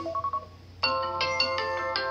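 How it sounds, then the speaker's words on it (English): A phone ringtone chimes in bright repeated melodic bursts, starting with a few faint soft beeps and then ringing loud and close for the rest of the moment. "You hear these ringtones, guys?"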